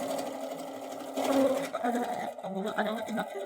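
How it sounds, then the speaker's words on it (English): A sewing machine stitches a fall-themed quilt block, its steady mechanical hum running close and continuous throughout, with a voice speaking over it. "So just gonna get my machine ready here. And sew on each side of the line."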